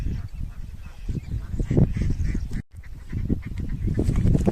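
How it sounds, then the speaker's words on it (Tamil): Ducks quacking and honking repeatedly in a noisy outdoor setting at a lake at night, fairly close, with a brief dropout partway through. "வாத்துலாம் மேயுது அங்கண்டா அதையும் பார்த்துக்கோங்க நிறைய மேயுது"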